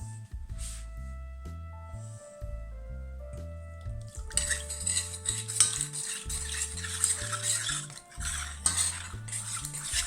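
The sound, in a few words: stirring cornstarch into cold milk in a saucepan for béchamel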